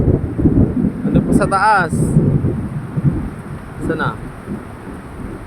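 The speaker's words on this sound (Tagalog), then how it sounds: "Lakas ng ulan, oh." Heavy rain pours steadily in a rural Bicol setting, a dense continuous wash with low rumbling gusts, while a person speaks briefly over it partway through.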